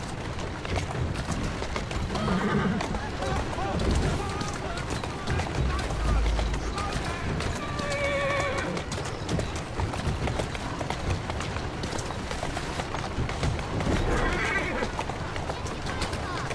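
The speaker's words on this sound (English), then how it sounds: "Who's a good horse?" A horse in the video game Assassin's Creed Syndicate whinnies a few times over steady clip-clopping hooves, with a voice talking underneath.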